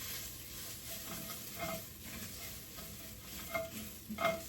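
Onions cooking in a pan, stirred now and then with a spoon, give a soft, low sizzle with occasional scraping and clinking, quiet and close, with no voices.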